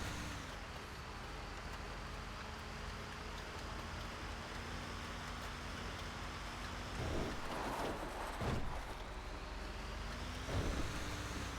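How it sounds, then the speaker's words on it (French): Rain in the video game GTA 5 makes a steady, even hiss over a low traffic-like rumble throughout, with a few brief louder splashes or bumps partway through. "Ah, bien sûr, il pleut."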